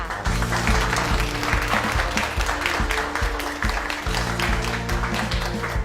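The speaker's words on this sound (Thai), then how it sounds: "ขอเสียงปรบมือให้กับเพื่อนร่วมคลาสงในวันนี้ค่ะ" A training-class group claps to welcome a special classmate, fairly loud and continuous, while a strong low tonal hum or music runs beneath the applause.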